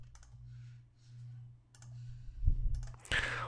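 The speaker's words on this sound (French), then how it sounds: "un clic droit sur la carte réseau qui doit être configurée" A few sharp computer mouse clicks while setting up a network card, sparse and close over a low steady hum, followed by a brief louder rustle.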